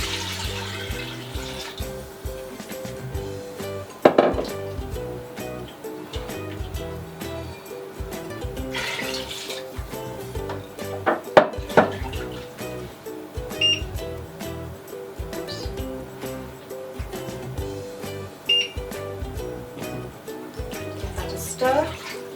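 One and a half litres of water poured into a pot of tomato soup with pasta and stock cubes, a steady splashing stream running throughout under background music and tonal sounds.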